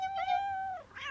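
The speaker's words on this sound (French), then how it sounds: "Qu'est-ce que c'est? Ça doit être Tipex, le chat de Paul" A cat lets out a single clear, sustained meow close by that slides downward at its end, followed by a brief breathy sound, with no talking.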